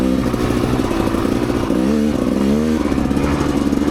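Rieju MRPro 300 dirt bike ridden along a trail loop, its engine loud and steady throughout with rising and falling revs, close to the rider, no speech.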